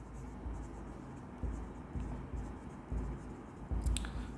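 Pen scratching across paper in steady strokes, mixed with low room noise and a few louder bumps near the end.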